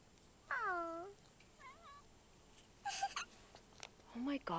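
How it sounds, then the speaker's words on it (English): A small kitten meows several times outdoors, a long drawn cry followed by shorter wavering mews and a few quick high squeaks, fairly close and clear against quiet background. "Oh my gosh, we did find a kitty."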